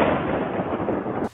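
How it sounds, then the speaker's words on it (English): Thunder sounds as a single close, loud crack that rolls into a rumble for about a second before cutting off abruptly. "Where there's thunder, there's lightning."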